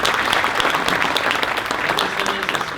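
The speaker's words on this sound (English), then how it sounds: "Let's give them a round of applause." A school district's morning community gathering breaks into sustained audience applause, a dense, even wash of clapping that fills the whole stretch with little talk.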